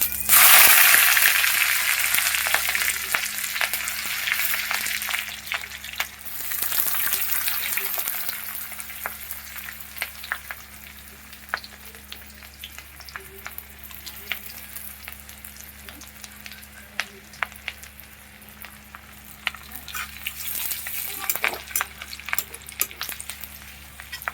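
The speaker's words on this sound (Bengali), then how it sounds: "রসুনটা ভাজা হয়ে গেছে হালকা লাল করে এবার আদা রসুন দিয়ে দেবো সরি আদা আর লঙ্কা দিয়ে দেবো" Minced garlic, chopped ginger and green chili fry in a hot pan, a steady close crackling sizzle with scraping stirs and clinks from a utensil, louder at the start and again near the end.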